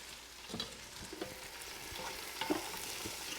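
Onions and peppers fry in melted butter inside a Ninja Foodi pot, a soft, steady sizzle with a few stirring scrapes, fairly quiet throughout with no talking.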